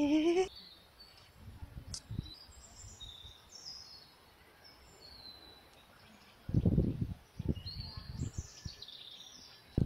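Outdoors, chickens, seagulls and ducks call. High thin bird cries carry faintly from a distance, with a few louder, closer squawks and bursts of clucking or quacking near the end.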